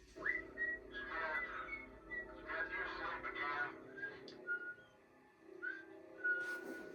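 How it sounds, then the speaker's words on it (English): Someone whistles a meandering tune, quiet and fairly close, with sustained notes and little trills over faint background noise. "He leaves real casual life, whistling his favorite tune."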